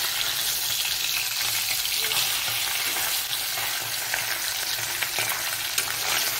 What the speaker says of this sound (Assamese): মাছবিলাক উল্টাই দিওঁ, ভাজি লওঁ।